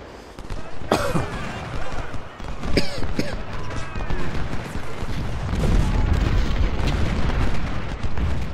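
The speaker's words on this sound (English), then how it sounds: "Cannons are starting to do some work now." Cannon artillery fire in the Civil War strategy game Ultimate General: Civil War, Battle of Gaines Mill: several loud booming blasts with echoing tails, followed by a dense rumbling roar of continuous fire and distant battle noise.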